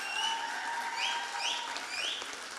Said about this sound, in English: give your teachers a massive round of applause